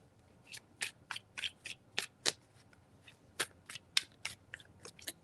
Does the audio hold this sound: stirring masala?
no